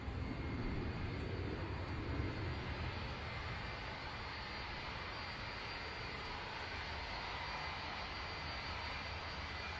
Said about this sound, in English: we're at Manchester Airport